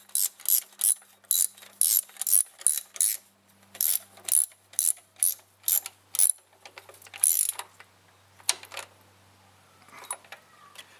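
Bolts on a 2002 Dodge Dakota thermostat housing are tightened into aluminum with a ratchet, giving a rapid series of crisp metallic clicks in bursts, close and clear, fading to a few scattered clicks.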